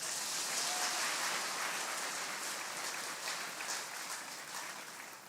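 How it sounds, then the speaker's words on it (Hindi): Steady crowd clapping fills a religious darbar gathering at Pandokhar Sarkar Dham, a dense, continuous patter of many hands with no voices over it, gently fading near the end. "आपकी ताली के जो गूंज है"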